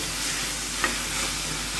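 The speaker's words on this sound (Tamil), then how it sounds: "இப்போது தக்காளி வதங்கிறதுக்காக நான் கொஞ்சமாக உப்பு சேர்த்து வதக்கி விட்றேன்" Steady close sizzling of tomatoes sautéing with a little salt in a frying pan, a continuous hiss with a brief soft scrape of stirring midway, no voices.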